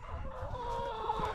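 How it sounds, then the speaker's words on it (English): Backyard chickens cluck steadily in their coop, a close, continuous flock chatter with overlapping calls throughout. "We got the chickens."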